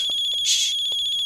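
An incoming call sets off a phone ringtone: a steady, bright electronic tone, loud and close, swelling briefly in the middle of the ring, with no talk over it.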